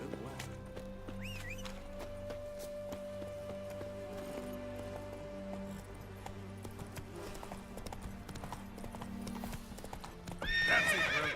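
Hoofbeats of Roach, Geralt's horse in The Witcher 3 video game, clip-clop in a steady galloping rhythm over a continuous music bed, with a whinny near the start and a louder burst of activity at the end.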